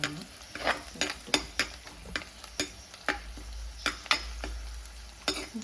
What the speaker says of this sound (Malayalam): ഇനി ഞാൻ ഇളക്കാം.